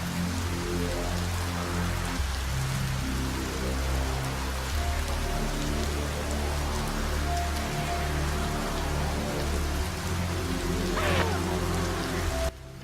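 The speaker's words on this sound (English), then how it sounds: "A very early level which begins on a rooftop with rain lashing down" Rain lashes down on a rooftop in the video game Fear Effect Sedna, a steady, dense hiss of drops running the whole way beneath a low, droning musical score.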